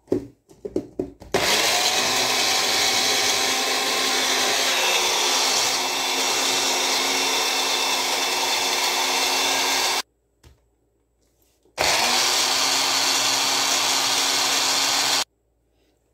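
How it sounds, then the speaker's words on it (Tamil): A mixer grinder whirs loudly, grinding ingredients into a paste for a cracked-heel remedy, in two long bursts of steady high-pitched motor roar separated by a brief stop. "இப்போ இதை நாங்கள் நல்லா பேஸ்ட்டாக அரைச்சி எடுத்துக்குவோம்."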